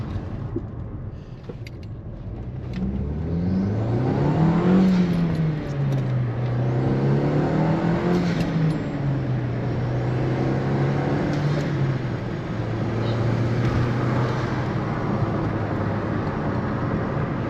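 A naturally aspirated Toyota Corolla GTI E100 engine running without an air filter pulls and revs while driving, its loud intake drone rising and falling in repeated sweeps, close and steady with no talk.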